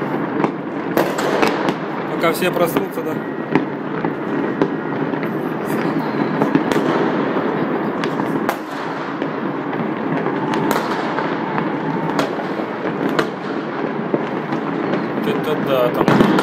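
New Year fireworks salutes keep bursting and crackling in a long, dense barrage with sharp pops scattered throughout, while people talk over the noise.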